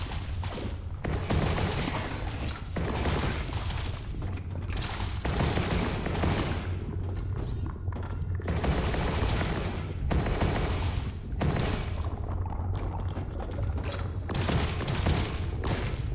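Rifle fire in the Ghost Song video game, loud repeated blasts in rapid bursts with short pauses between volleys, booming and close.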